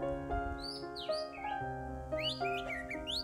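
A green leafbird (cucak hijau) sings close and clear, with rapid varied whistles, chirps and warbling phrases over a steady tonal hum in the background.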